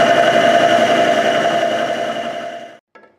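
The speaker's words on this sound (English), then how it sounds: "Let's get these bolts cleaned up on the wire wheel." A bench-mounted wire wheel spins while bolts from a Suzuki GS550 cafe racer clutch job are pressed against it, giving a loud steady whirring hum that winds down and cuts off near the end, followed by a brief faint rattle.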